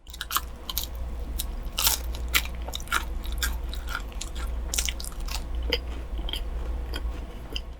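Biting and chewing a giant milk whipped-cream waffle from a cafe, close-up crisp crunches and soft wet chewing that repeat steadily throughout, with no talking over them.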